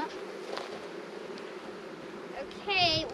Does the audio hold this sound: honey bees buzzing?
yes